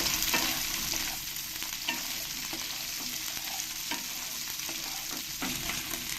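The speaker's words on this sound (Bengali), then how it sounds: "বিনসগুলো দিয়ে দেবো, দিয়ে ভালো করে একটু এর সঙ্গে ফ্রাই করে নেব" Beans and potatoes fry in a pan for a mushroom pulao, with a steady close sizzle and periodic scraping stir strokes running throughout, no voices.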